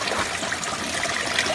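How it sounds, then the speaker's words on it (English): An aquaponics pump in an off-grid solar-powered greenhouse lifts water over grow media, where it trickles and splashes steadily into buckets, a continuous close, bright rushing with no voices. "Have the pump bringing water up over the grow media,"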